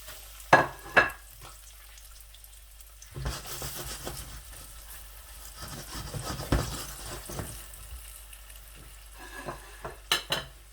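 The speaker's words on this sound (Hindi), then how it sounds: "माशाल्लाह ऑयल हमारा गर्म हो चुका है। अब मैं बारी बारी इसमें पीसीस जो हैं दोनों ऐड कर दूंगा।" Chicken pieces for fried rice drop into hot oil and set off a soft, steady sizzle, broken by sharper spatters and a few clinks of a utensil against the pan, all close by and without talk.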